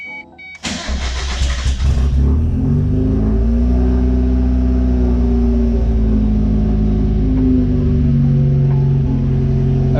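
A 1990 Mazda Miata, fitted with a wideband and boost gauge, cranks briefly and catches, then settles into a steady, loud idle with a low engine rumble that runs close and alone for the rest of the clip.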